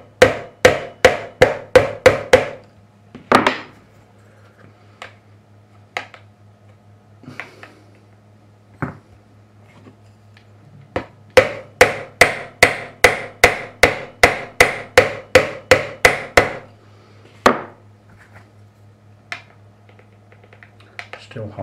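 Light hammer taps on the frets of an ESP Eclipse II guitar neck during fret leveling, sharp clicks in quick even bursts, a pause with a few scattered taps, then another long run, close and alone.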